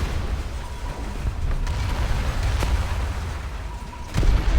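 Low rumbling booms and muffled blasts roll on continuously in a naval combat game as a submarine fires torpedoes, with a few sharper thuds and a heavier hit near the end.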